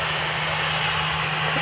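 A Shamrock flight lines up for takeoff at Dublin Airport, its aircraft engines giving a steady, even roar with a low hum underneath, with no break or change in level.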